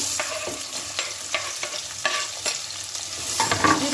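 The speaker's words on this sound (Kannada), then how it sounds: "ಇವಾಗ ಈರುಳ್ಳಿ ಹಾಕೋತಾ ಇದ್ದೀನಿ." Onions frying in hot oil with whole spices (cinnamon, cloves, cardamom) in a pressure cooker, a steady loud sizzle broken by repeated scraping stirs, with no talk.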